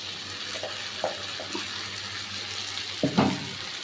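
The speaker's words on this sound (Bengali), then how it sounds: "এখানে মশলা ধোয়া জলটা আমি দিয়ে দিলাম" Spice-washing water poured into a pan for a raw mango chicken curry, a soft watery splash and faint sizzle that swells near the end, heard alone at low level.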